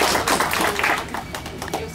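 An audience at a Brazilian book-launch debate bursts into applause for mestre João, a dense wash of clapping heard up close with voices mixed in.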